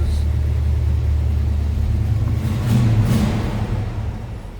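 A 1968 Pontiac Firebird convertible's V8 with a 4-barrel carburetor revs near and steady, a deep continuous rumble that swells briefly with a blip of throttle before settling.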